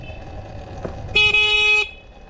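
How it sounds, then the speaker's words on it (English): A vehicle horn on a trail ride, sounding once in a bright, steady honk lasting under a second over a low engine hum, close and loud. "Just gotta honk, you know, it's our signal."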